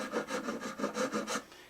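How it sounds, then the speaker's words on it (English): Hand file rasping across the wooden top of a Martin D15 guitar, a steady series of about eight close, even strokes in a regular back-and-forth rhythm, with no voices. "I found out this file, you can see that, is actually faster than that diamond grit file was."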